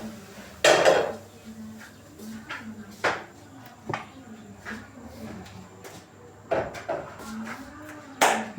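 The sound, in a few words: pot of maize placed on jiko stove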